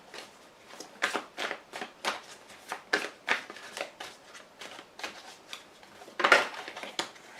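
Playing cards are shuffled, handled and drawn in a close, crisp run of rapid flicks and snaps with brief pauses between them, and one louder slap near the end.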